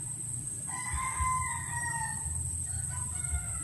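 Neighbour's pet chicken crowing nearby, a single drawn-out cock-a-doodle-doo cry with a shorter call after, over faint background noise.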